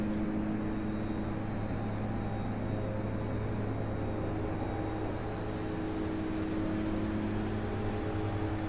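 Steady aircraft engine drone from the Prepar3d flight simulator during an approach to Lukla airport, a continuous loud hum with tonal bands and no talk.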